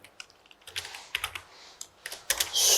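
Typing a note on a computer keyboard during a lecture, a close run of irregular key clicks and taps in quick bursts, with no talking.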